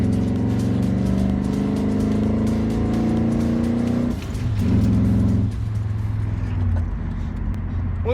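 Muscle truck running racing fuel, its engine droning loud and steady at high revs while the cold tires spin, then a brief dip and a second surge before easing off.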